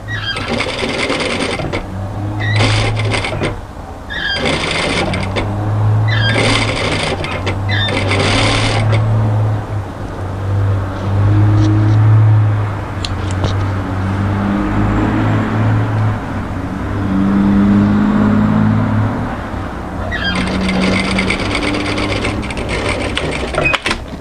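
A home sewing machine runs a straight stitch along a knit sweater sleeve hem through the overlocking, whirring steadily in several bursts with short pauses between runs, close and fairly loud.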